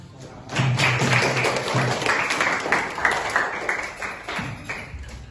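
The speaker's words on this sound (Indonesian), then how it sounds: "Oke, tepuk tangan." Students in a classroom applaud together, a dense run of clapping that rises quickly and holds steady for several seconds with a faint voice underneath.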